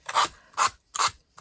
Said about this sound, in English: And I'll get my finger sander.